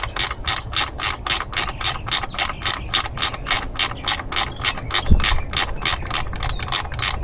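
A ratchet with a 5/16 socket clicks rapidly and evenly, about three strokes per second, as it backs out a bolt on a Ford F150 Raptor, close and loud with a single thump midway.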